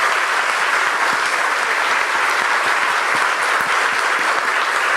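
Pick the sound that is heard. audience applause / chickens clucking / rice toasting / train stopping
audience applause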